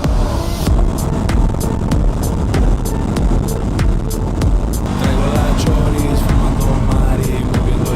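A 2024 KTM Duke 390 single-cylinder motorcycle accelerates gently in sixth gear while riding, a loud steady engine drone mixed with heavy wind rush, with recurring ticks over it.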